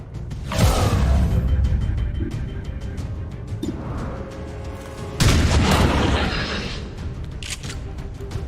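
Incoming artillery fire in a video game, with heavy booming blasts and a rumbling barrage that swells twice, loud and continuous.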